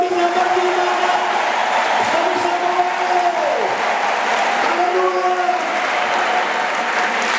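Church congregation clapping during a sermon by a Kinyarwanda-speaking pastor, a continuous dense wash of applause with faint tonal sounds running beneath it.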